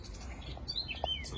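Birds chirp and tweet in a small forest with nests nearby, with a few short high calls over soft ambient background.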